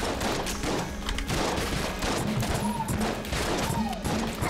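Rapid bursts of gunfire from the t-shirt cannon in Enter the Gungeon, a dense, continuous barrage of loud shots and impacts layered over game music and effects.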